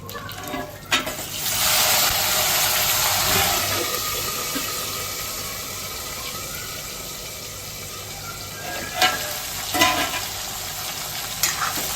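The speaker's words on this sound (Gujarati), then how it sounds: "પછી એમાં 1 સુધારેલું ટામેટું નાખીશું." Chopped tomato goes into a sizzling Gujarati dal tempering with curry leaves in a pan, a loud steady frying hiss close by, with scraping stirs and a couple of spoon clinks near the end.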